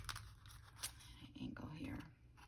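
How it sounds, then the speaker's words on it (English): Scissors cutting paper at an angle while making a junk journal: faint, close snips and crinkling paper with some soft handling noise, quiet and brief. "So let's just cut this at an angle here."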